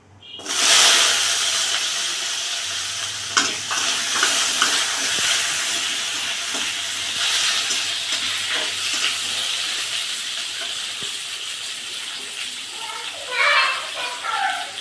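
Mango pieces drop into hot oil with fried tempering spices for a sour-spicy mango chutney, giving a sudden loud burst of sizzling that settles into a steady hiss with occasional stirring clatter.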